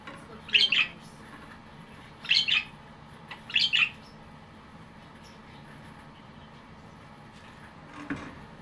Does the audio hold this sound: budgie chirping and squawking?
yes